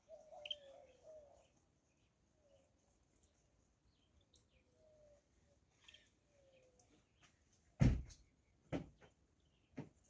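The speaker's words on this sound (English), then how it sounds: "Can you hear those birds? There is one sitting right on the wire right there." Birds call and chirp in a Jamaican backyard vegetable garden, a few thin whistled phrases early on, then quiet gaps before sharp knocks near the end.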